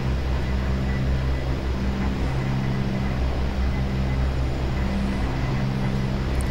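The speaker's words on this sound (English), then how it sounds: "right engine starting up" The right engine of an OV-10 Bronco in the DCS flight simulator runs with a steady, loud low drone and constant hum, unbroken and without talk.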